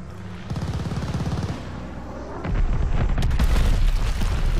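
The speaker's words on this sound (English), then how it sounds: "Incoming bomb." Booming explosions and heavy blasts from a bomb strike in the Call of Duty Vanguard multiplayer game, with a steady rumble of gunfire giving way to a louder, deeper wave of detonations partway through.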